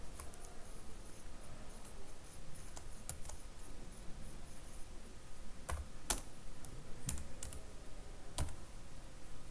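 Close, quiet typing on a computer keyboard while entering Angular code, bursts of rapid key clicks with short pauses and a few sharper keystrokes, alone with no talking.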